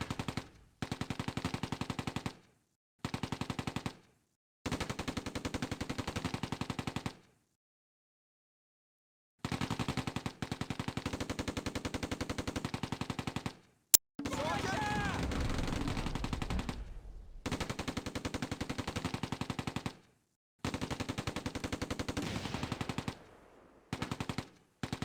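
Sustained machine gun bursts in the Close Combat A Bridge Too Far war game, dense rapid fire in long stretches broken by short gaps, loud and close, with one sharp heavier report partway through.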